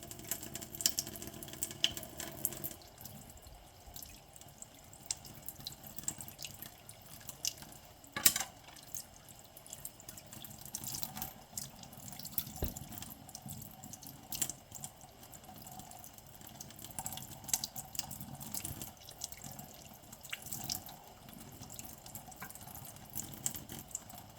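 Water trickles and drips steadily at low level, with scattered faint splashes and clicks over a quiet continuous flow, close by and without talk.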